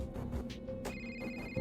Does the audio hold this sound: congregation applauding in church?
no